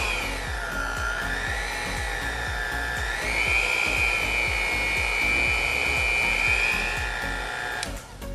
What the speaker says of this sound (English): Plus 9-speed hand mixer with storage case.